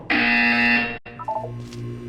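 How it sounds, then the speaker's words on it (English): A loud, harsh electronic buzzer in the video game Portal 2 sounds for about a second, then cuts off, followed by softer electronic tones. "When you hear the buzzer, look down at the floor."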